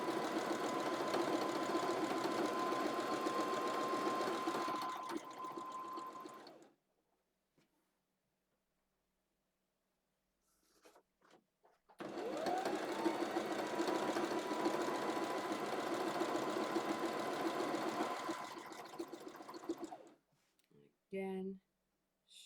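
A sewing machine runs straight stitching on fabric for a simple off-shoulder tie-top, with two long steady whirring runs split by a pause and brief clicks near the end.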